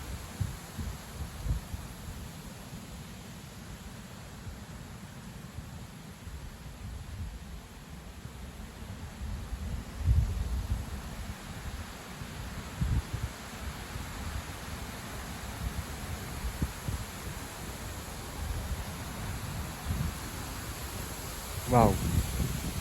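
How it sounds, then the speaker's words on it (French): A strong west-north-west wind with gusts around 70 blows steadily, producing a continuous low rumble and hiss with periodic buffeting thumps against the microphone. "Ouais, vent d'ouest-nord-ouest."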